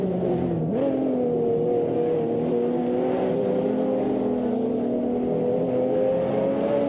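A Ford Mustang GT and an Audi TT RS racing side by side in a racing game, engines droning steadily with a rising rev early on, then a sustained loud, close hum.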